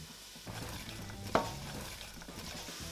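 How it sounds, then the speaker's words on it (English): Onions, ginger and garlic fry quietly in oil in a pan, making a low, steady sizzle with soft stirring and one brief metallic clink partway through. "Put oil on the pan and then I'm going to put on these onions, and on top of that let them fry up."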